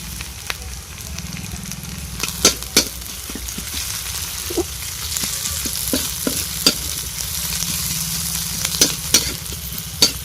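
Chillies fry in hot oil with lightly browned onions for a cauliflower-potato chop: a loud, constant crackling sizzle, punctuated by sharp stirring clacks against the pan.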